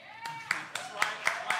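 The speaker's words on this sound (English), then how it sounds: "Yeah, loud applause." Sparse, fairly loud hand claps from a live audience at a jazz club show at Fulton Street Collective, sharp individual claps roughly every quarter second over a lingering tone and crowd murmur.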